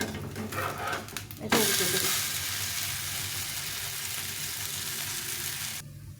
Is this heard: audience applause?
no